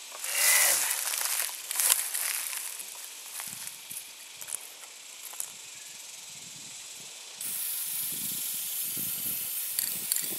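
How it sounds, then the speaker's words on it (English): Black spray paint hisses from an aerosol can in a few bursts, a long close spray first and then shorter spurts, mixed with handling rustles and small knocks. "Then you're gonna take some black spray paint, which I'm gonna do it over here so it don't get on David's quick."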